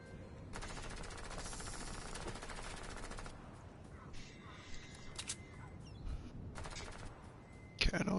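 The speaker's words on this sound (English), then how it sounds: "Someone shooting at you? Yep. They are." Rapid automatic gunfire in the Fortnite battle royale game, sustained bursts of shots crackling in long runs with brief pauses, fairly loud and dominating, with little else beyond an occasional louder hit near the end.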